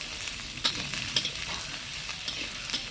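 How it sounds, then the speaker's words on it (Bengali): Small, finely cut cauliflower florets fry in a pan with a soft, continuous sizzle, while a spatula stirs and scrapes in quick, irregular strokes. The sound is quiet and close, with no voices. "এবার এগুলো সব আমি একসাথে খুব ভালো করে ভেজে নেব"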